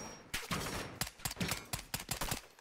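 Gunfire in the video game Call of Duty DMZ: a string of sharp, loud shots in quick irregular bursts, roughly a dozen cracks over a couple of seconds, close and punchy with brief gaps between.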